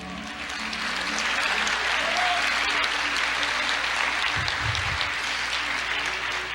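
A church congregation applauds during a Portuguese-language sermon, with dense, steady clapping sustained at close range and no talk over it.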